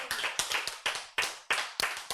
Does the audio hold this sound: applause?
yes